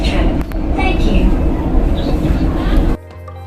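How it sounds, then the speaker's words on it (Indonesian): Joglosemarkerto passenger train rolling into Solo Balapan station in Indonesia, a loud steady rumble of wheels and carriage noise from onboard that cuts off abruptly near the end. "Akhirnya kereta api Joglo Semarkerto tiba di stasiun akhir yaitu Solo Balapan"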